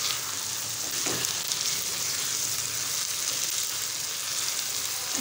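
Chickpeas sizzle and fry in a pan with black pepper and salt for Lahori-style cholay, a steady close crackle with stirring scrapes, no voices.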